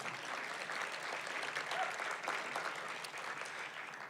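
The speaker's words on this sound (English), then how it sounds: "We can clap for that." Steady applause from an audience at an arts lecture event in Westport, Connecticut, a dense even patter of many hands clapping at moderate volume for about four seconds, with no voices over it.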